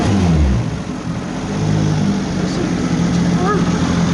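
A Cd009 240sx drift car with a 1JZ engine and GTX3076R turbo accelerates, its engine droning loud and continuous with rising and falling pitch while people talk over it.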